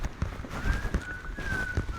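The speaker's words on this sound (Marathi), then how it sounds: "पक्षीचा आवाज" A sustained, slightly wavering bird whistle from the trees at Tikona Fort during monsoon holds steady over a background of scattered rustles and footsteps-like knocks.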